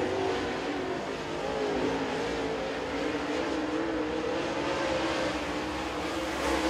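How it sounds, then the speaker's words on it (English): A super late model race car runs a qualifying lap at Crossville Speedway, its engine a steady loud roar that holds level throughout without distinct passes or pauses. "rolling down in three and four is going to be Riley Hickman in that R1 race car"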